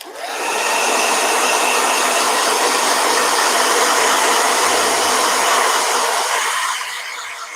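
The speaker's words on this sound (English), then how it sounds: "Blow dryer." A blow dryer runs loudly close by, a steady breathy whir that starts within the first half second and holds evenly for about six seconds before tapering off.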